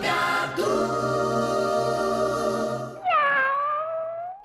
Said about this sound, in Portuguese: O miado anuncia